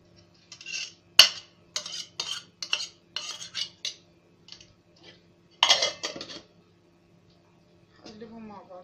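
A spoon clinks and scrapes against a bowl while stirring orange zest into a cake mixture, a series of short sharp taps and scrapes, close and fairly quiet, with a voice briefly at the end.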